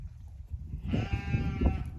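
Sheep bleat in a barn, one close, wavering bleat with a few overlapping animal calls and shuffling beneath it.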